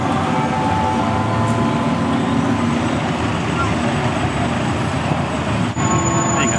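A bus passes in busy London traffic near Big Ben, a broad steady rumble of engine and road noise that stays loud and continuous throughout, with no clear voices standing out.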